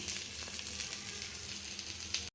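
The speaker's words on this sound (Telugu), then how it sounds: "ఇలా చేప ఫ్రై అవుతూ ఉన్నప్పుడు మధ్య మధ్యలో కొంచెం కొంచెంగా ఆయిల్ ఇట్లా అప్లై చేసుకోండి" Fish pieces frying in oil in a pan, a steady close sizzle with soft crackles throughout, no speech, stopping abruptly just before the end.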